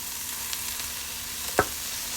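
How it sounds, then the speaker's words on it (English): Red chard leaves stir-frying in a pan, a steady soft sizzle with one brief scrape of stirring partway through, close and fairly quiet. "stir-fry red chard leaf. You can use it to eat anything, just stir-fry it."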